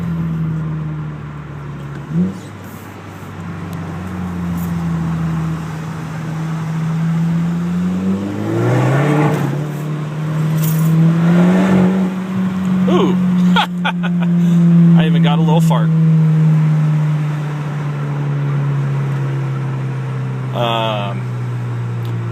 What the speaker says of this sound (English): That was second gear from redline, pretty much engine braking all the way down to 0.